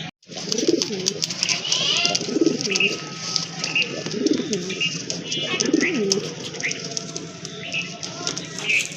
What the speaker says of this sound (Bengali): বিগ সাইজের এক জোড়া কবুতর